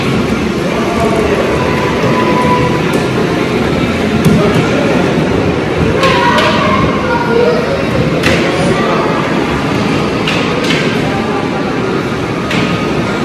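A train rolls steadily through the whole span, a continuous loud rumble with faint rattles and brief squeaks, like riding inside a carriage; speech is faint beneath it.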